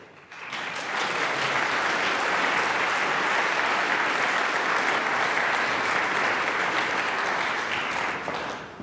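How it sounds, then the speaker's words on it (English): Audience applause at a University of Luxembourg tenth-anniversary celebration at Cercle Cité, swelling quickly into loud, sustained clapping from a large crowd that carries on evenly for several seconds. "So please keep your applause up for a former student of the University of Luxembourg, Maika Grossbusch."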